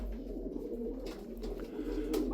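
Sarıkır tumbler pigeons in their loft give a low, continuous cooing murmur, soft and near, steady throughout with no voices.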